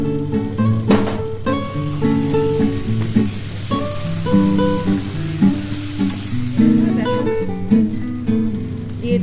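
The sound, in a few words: curry being stirred and fried in a pan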